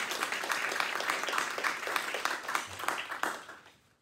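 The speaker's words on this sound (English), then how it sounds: "So please join me in a round of applause for welcoming Mark Lopez." An audience applauds to welcome a speaker at an environmental community organizing talk, a steady burst of many hands clapping that fades out toward the end.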